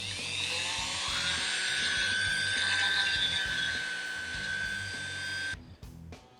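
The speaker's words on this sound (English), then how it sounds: "I'm going to use a sanding stone that's a cone like this so I can get in and just do the opening where the ball goes in" A rotary tool with a cone-shaped sanding stone grinds the opening on a plastic McFarlane DC Multiverse Batman action figure, giving a continuous high whine that holds steady for several seconds and then cuts off abruptly.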